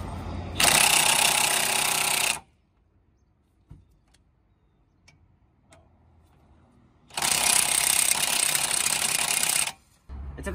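Power tool hammers at a seized front hub bolt on a Honda Insight during a spindle knuckle replacement, two loud sustained bursts of rapid rattling separated by a quiet gap with faint clicks.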